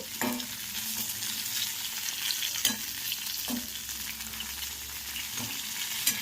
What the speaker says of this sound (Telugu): వంకాయలు మధ్యలో కోసి ఇలా వేయించుకోవాలన్నమాట